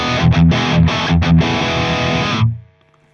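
Distorted electric guitar through a Captor X+ load box set to the flat shaper mode, loud chugging chords with brief rhythmic stops, ending in a ringing chord that decays away.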